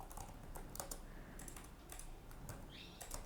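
Someone typing C# code on a computer keyboard: quick, irregular, faint key clicks under a constant background hiss.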